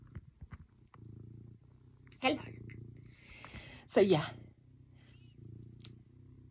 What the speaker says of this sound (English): A lovely cat. There he is.